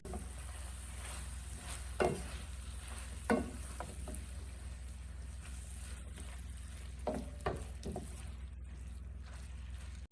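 Caramelizing onions stirred in a pan, with a soft steady sizzle and a few scraping stir strokes spaced through it, fairly quiet and alone.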